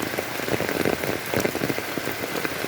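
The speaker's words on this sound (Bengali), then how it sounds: "এখন তো বৃষ্টি হচ্ছেই।" Steady rain pours down in a dense, continuous patter of drops hitting surfaces close by, with no voices.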